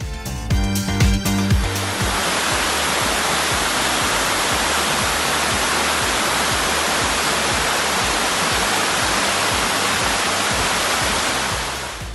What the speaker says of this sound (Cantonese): 呢度有一條直不甩嘅瀑布同埋一個水潭